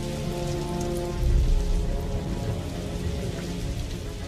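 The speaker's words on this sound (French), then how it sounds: "Mais un invité surprise a fait son entrée, la pluie." Steady rain falls on a wedding day, a dense continuous patter on surfaces, moderately loud and unbroken, with no voices.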